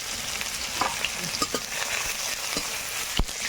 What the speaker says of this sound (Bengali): এপাশে কড়াইতে তেল দিয়েছি তেলের মধ্যে লঙ্কা দিলাম